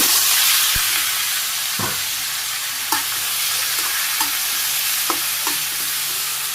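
Vegetables are stirred in a frying pan with fenugreek seeds, ginger and green chilies for a Bangladeshi village dish, giving a steady close hiss and sizzle broken by scattered scraping and clacking strokes of the stirring utensil.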